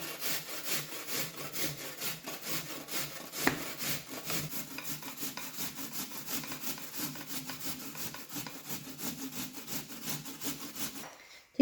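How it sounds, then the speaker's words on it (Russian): Apple rubbed on a coarse grater, a rapid steady series of scratchy rasping strokes, close and fairly quiet, continuing evenly for about eleven seconds before stopping. "Теперь яблоко натираю на крупной терке."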